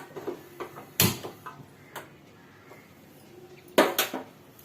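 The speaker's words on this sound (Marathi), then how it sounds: "मी पहिल्यांदा गॅसवर तवा ठेवते गॅस चालू करते" A griddle is set down on a gas stove with a couple of clattering metal knocks, followed by the brief click and rush of the burner being lit, in a home kitchen making pea cutlets.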